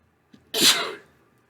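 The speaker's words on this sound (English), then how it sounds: "Excuse me, I need to sneeze." A single sharp human sneeze, close and loud, preceded by a brief quiet intake of breath, then silence.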